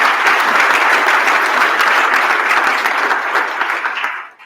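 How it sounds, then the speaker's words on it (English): Loud, dense applause from a large crowd, steady throughout and tapering off at the very end. "Let's give a round of applause."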